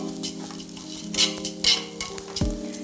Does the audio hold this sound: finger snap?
no